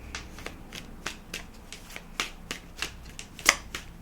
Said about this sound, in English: I'm just going to give this a shuffle